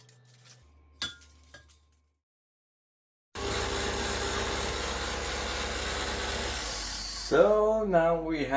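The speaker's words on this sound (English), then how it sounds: "we're going to put it into the blender to make it to a fine powder" A loud, steady motorized grinding roar of a blender grinding food scraps into fine powder runs for several seconds after a few clinks, then gives way to a brief voice near the end.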